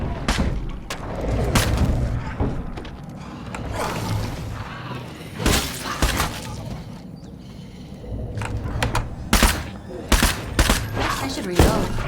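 Gunfire rings out in the zombie survival video game State of Decay 2, with loud repeated shots and booming bursts in uneven volleys throughout, and a voice talking briefly between them.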